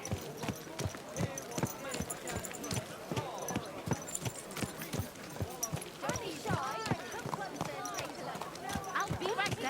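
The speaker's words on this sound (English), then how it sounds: "Watch out with that horse!" Horse hooves clip-clop in a steady rhythm through the medieval RPG Kingdom Come Deliverance II, close and clear with a voice speaking over them in places.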